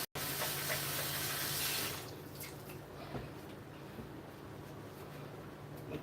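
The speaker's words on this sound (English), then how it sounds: "while I wash my hands." A tap runs for hand washing, a loud steady stream for about two seconds, then softer splashing and drips as the hands move under the water.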